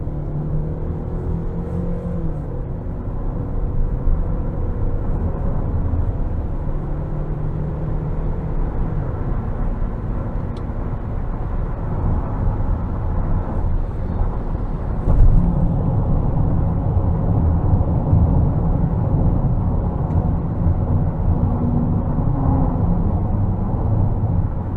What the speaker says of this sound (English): We'll give it some throttle here.